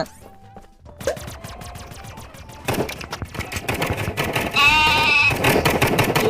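A lamb bleats loudly and wavering near the end, after stretches of rapid rattling clatter and background noise, with no talk over it.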